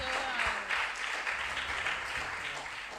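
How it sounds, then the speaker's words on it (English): Audience applause for quiz contestants at a junior science and maths regional qualifier, dense steady clapping from a crowd with voices mixed in. "A round of applause for our contestants."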